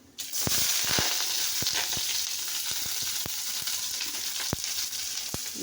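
Onion and mustard seeds fry in hot oil in a home kitchen pan, a steady close sizzle with sharp crackling pops scattered throughout as the seeds burst, no voices.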